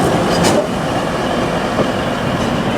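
A train rumbles steadily along the platform at Doncaster station, a loud, continuous low roar of wheels and carriages passing close by, with a faint brighter squeal near the start.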